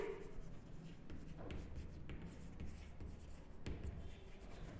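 Chalk or marker scratching across a board during a second PUC accountancy class, faint short strokes with a few sharper taps, quiet room, no talking.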